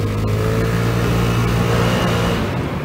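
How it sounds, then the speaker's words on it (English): A Vespa GTS 300 scooter being ridden, its engine droning steadily with loud wind rush, continuous and close throughout without any talking. "And now let's just go for a short ride. This Vespa GTS 300 is a great ride."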